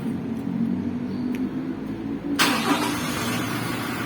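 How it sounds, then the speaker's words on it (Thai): A quiet idle hum gives way to a 2022 Toyota Commuter van engine cranking via push button and catching, then running steadily at a close, even idle. "แตะเข้าไปหนึ่งครั้งแล้วก็สตาร์ทเครื่องให้"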